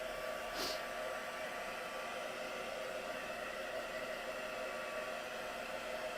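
A hair dryer blows steadily and close the whole time, drying black card for a Halloween craft, with a constant loud whooshing hum and one brief brighter swell early on.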